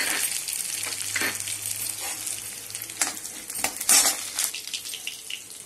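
Coriander seeds frying in oil in a kadai for sambar, a light steady sizzle with a few sharp pops and metallic scrapes and clinks from a spoon against the pan.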